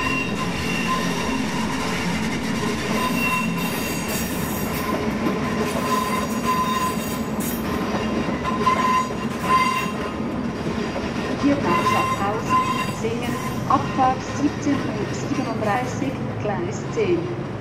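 Trains at Zürich main station, a long steady rumble of rolling railcars with squealing wheels and clattering over the tracks under station hall ambience, with voices faintly in the background.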